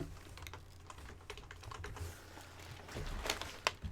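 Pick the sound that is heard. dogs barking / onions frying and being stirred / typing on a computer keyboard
typing on a computer keyboard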